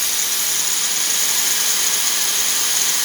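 Grinder worked hard on a mini-mill setup, a loud, constant high-pitched whine and hiss with a steady grinding roar up close and no letup, with no talking.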